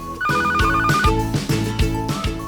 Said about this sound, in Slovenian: Na postaji zazvoni telefon.